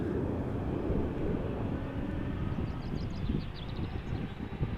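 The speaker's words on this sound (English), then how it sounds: "Taxiing, okay. So outbound, the A340." Airbus A340 airliner taxiing at Amsterdam Schiphol Airport, a low, steady engine rumble with broadband roar heard from a distance, continuous and even with no voices.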